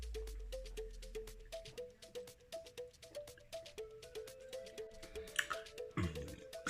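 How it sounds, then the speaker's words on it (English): Something dropped into a glass of water for an alkaline drink fizzes with a steady, fine crackle of popping bubbles, close and quiet, growing a little busier toward the end, with no voices. "Soon as you start to put it in, hear that sizzle?"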